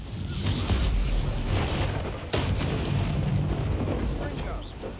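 A Confringo fire spell in the game Hogwarts Legacy bursts in a continuous rumbling blast with a sharp crack midway, heard fairly faint overall.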